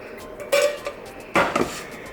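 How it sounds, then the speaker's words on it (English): Cooked pasta is tipped into a pot of cheese sauce, producing two clanking scrapes of utensil against metal cookware with soft wet stirring between them. "I'm gonna put it in my cheese sauce."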